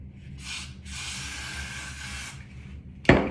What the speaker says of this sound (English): Gently spray it.